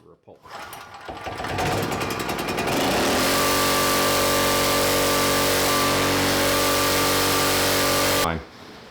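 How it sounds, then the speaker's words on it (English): A generator engine, pull-started with choke on, sputters through a few rapid cranking strokes before catching and roaring into a loud, steady close-up run, then cuts off abruptly. "Put the choke on, turn the ignition on. Give her a pull."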